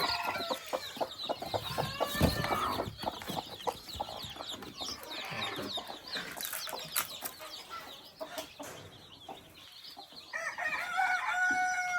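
Native hens cluck and chatter steadily while a rooster crows, with more crowing toward the end, heard from a Kerala hen farm at moderate distance.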